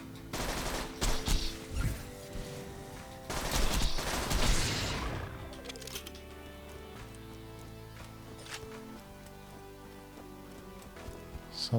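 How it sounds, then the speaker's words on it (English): Bursts of automatic gunfire from the shooter video game Borderlands 2, with two loud volleys in the first five seconds, then quieter scattered shots over a steady tonal in-game music or ambience bed. "Sounded like it from the gunfire."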